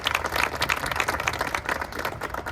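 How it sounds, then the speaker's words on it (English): Applause from the audience at a Texas Hispanic Chamber of Commerce press conference, a scattered crackle of individual hand claps from a modest crowd, fairly close and uneven. "a round of applause for our 2023 board chairman"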